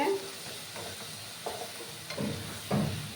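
Spice paste sautés in a pan with added water, giving a steady hiss with repeated bursts of stirring scrapes at a slow, regular pace.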